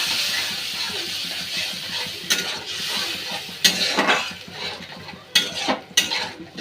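Masala with a little salt and splashed water stir-fried in a pan, a soft sizzle underneath with several sharp scraping and clanking strokes of a spoon against the metal, close and fairly loud.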